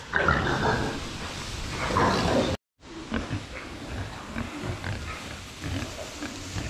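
Pigs weighing about 43 kilos grunt and squeal loudly and continuously nearby, a busy chorus of oinks with a brief pause partway through.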